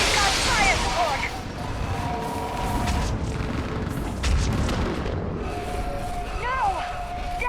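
Artillery fire support in the Mass Effect 3 video game: a heavy barrage of booms and blasts over a dense battle din, sustained and loud throughout, with people shouting and talking in the mix.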